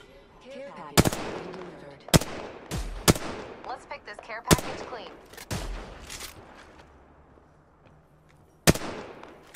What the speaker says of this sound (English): When you shoot the 301 once, it makes a sound that sounds like multiple bullets